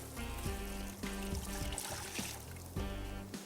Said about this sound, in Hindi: साथ ही हम इसमें चिकन की यखनी शामिल करेंगे, ये आ गई।